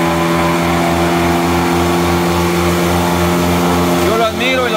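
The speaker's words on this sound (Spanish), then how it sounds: "él es el que opera el tractor" A tractor engine runs steadily while chopping fodder grass in the rain, a loud, close, even mechanical drone with a regular low pulse that continues unbroken throughout.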